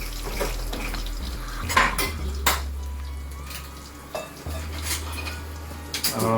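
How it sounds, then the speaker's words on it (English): A spoon stirs spices in a pan of cabbage and potato sabzi, giving several metallic clinks and scrapes against the pan over a low, steady sizzle, close by and with no talking. "Take a spoon, anything that you have in your room. Just mix it."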